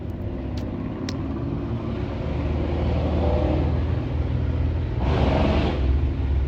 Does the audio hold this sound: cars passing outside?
yes